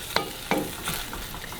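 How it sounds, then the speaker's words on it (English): Fish and pineapple being stirred and fried in a pan, two sharp utensil scrapes against the pan over a soft continuous sizzle, heard up close with no talking. "And now we're gonna give them a good mix before I add the next ingredient."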